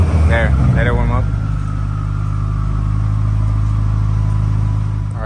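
Subaru WRX with a catless J-pipe, its engine rumbling at idle after a brief blip, deep and close, with a short bit of talk at the start.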